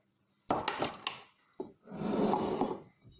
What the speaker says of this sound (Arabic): نزيد نخلط الفرينه تاعي